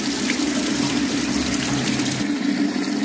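Water runs steadily into a repaired toilet tank, a constant close rushing and trickling fill with no voices.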